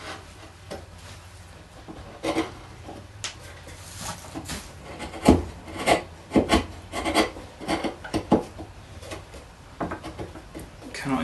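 Chisel scraping and chipping bits off pallet wood, close and fairly quiet, with irregular bursts of rasping scrapes and knocks spread throughout.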